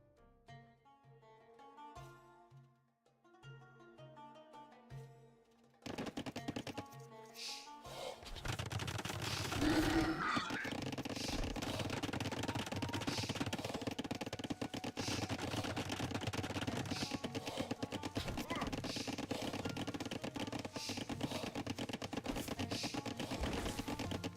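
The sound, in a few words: speed chopping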